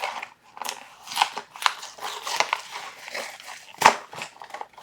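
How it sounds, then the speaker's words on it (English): Choco Boy, a Korean chocolate snack, is crunched and chewed close to the mic: a series of sharp, crisp bites and crackles in irregular rhythm, with quiet gaps between chews and no talking. "Choco Boys are crunchy."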